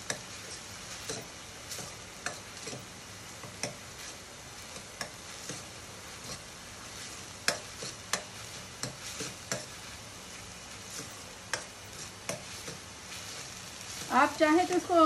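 Chopped capsicum frying for pav bhaji, with a steady, soft sizzle in a pan and irregular clicks and scrapes of a spoon stirring, plus a brief louder clatter near the end.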